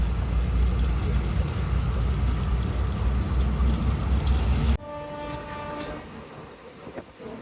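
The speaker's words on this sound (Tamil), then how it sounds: "ட்ரெயினுக்கும் எனக்கும் தான் போட்டி." A train roars past at close range with loud, steady low rumble for several seconds, then cuts off abruptly, leaving a quieter scene where tonal horn-like harmonics linger beside a road.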